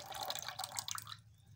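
Diluted vinegar, two spoons mixed with two tablespoons of water, trickles gradually into hot milk to make paneer, giving soft dripping and splashing liquid sounds that fade into quiet near the end.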